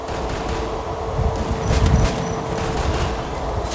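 Gunfire in a battle royale video game crackles as a dense, continuous burst of shots, loud and close, with a heavier cluster near the middle and no talk over it.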